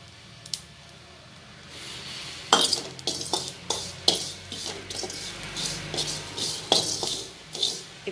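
Ajwain (carom seeds) being fried and stirred in a pan on the stove. A faint crackle runs under repeated close scraping and clinks of a spoon against the pan, arriving in irregular strokes.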